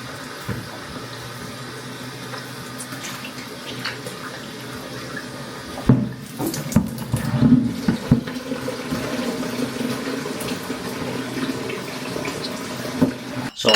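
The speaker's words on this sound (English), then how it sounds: "So I shall clean this bucket out now, sterilise it, and use this to wash the bottles out in." Tap water runs and splashes while a homebrew beer fermentation bucket is rinsed out, a steady wash that turns louder and more turbulent partway through, close and alone without talk.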